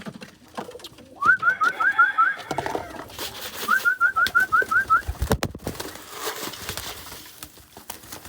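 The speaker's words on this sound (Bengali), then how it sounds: "এখন কবুতরগুলোকে খাবারটা দিয়ে দিন" Pet pigeons coo at feeding time, with two clear runs of rhythmic cooing close by over light background noise.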